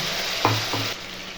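Onion and green chilies fry in a pan with a continuous sizzle, broken by a couple of short spatula clacks close by.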